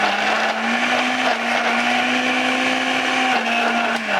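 A non-Ninja blender crushes ice with water for homemade slush, its motor whining at a steady, loud pitch with a gritty churning texture, running continuously without talk.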